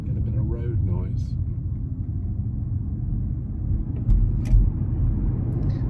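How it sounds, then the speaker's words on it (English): Low, constant rumble of tyres on the road from inside a moving Volkswagen ID.3 electric car with large tyres, with a brief voice at the start and a bump near the end. "even at very low speeds, hearing quite a roar from the tyres"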